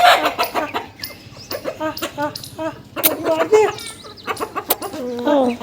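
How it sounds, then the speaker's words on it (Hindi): Chickens cluck and squawk repeatedly nearby after being fed grain, a busy, uneven flock chatter with occasional sharper calls. "ये देखिए मैंने मुर्गियों को दाना डाला है, मुर्गियाँ वहाँ भाग गई हैं"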